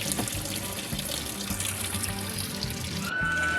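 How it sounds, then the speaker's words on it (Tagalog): Strong stream of tap water pouring into a Whirlpool washing machine, a steady, full rushing flow that runs throughout and stays close and loud without a break. "Tama lang, malakas ang tubig ngayon, no?"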